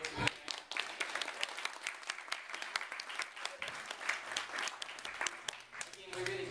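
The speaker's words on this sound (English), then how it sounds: "So have a big round of applause." An audience applauds a school kapa haka group, a sustained wash of many hands clapping from a crowd with sharp individual claps standing out and some voices mixed in.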